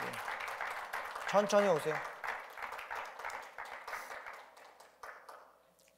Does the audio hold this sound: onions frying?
no